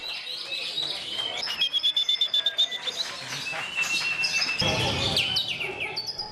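Songbirds singing at a bird sound competition in Yogyakarta, many bright chirps, trills and whistled phrases overlapping in a busy crowd, with people talking beneath.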